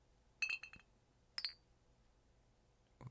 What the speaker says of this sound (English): Was that the faint sound of glass clinking on a glass?